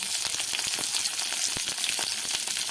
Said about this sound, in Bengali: পেঁয়াজ আর লঙ্কাটা, কাঁচা লঙ্কাটা ভেজে নেব